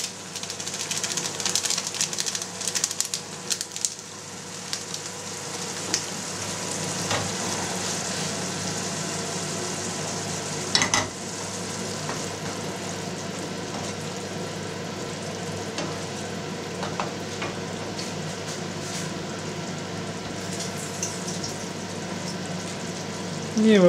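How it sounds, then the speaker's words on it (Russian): Veal and tomato sauce stewing in a pan, a continuous gentle sizzle and bubbling hiss that holds steady throughout, with a few faint clinks and no talk. "И в это время у нас продолжает тушиться наш соус."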